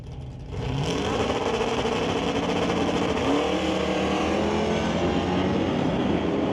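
Two drag race cars, a Dodge Dart and a Malibu, roar off the line in a sustained loud blast of engine noise that builds quickly after a brief quieter lead-in and holds steady at high volume.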